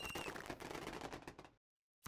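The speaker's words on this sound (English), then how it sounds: "All the little fireworks going off." Small fireworks in the strategy game Hexarchy pop in quick crackling bursts for about a second and a half, fairly faint, then stop before a short burst returns.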